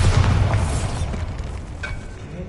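Bombarda spell blast in Hogwarts Legacy on PS5, a deep booming explosion with a heavy low rumble at the start that decays over a couple of seconds, alone without talk.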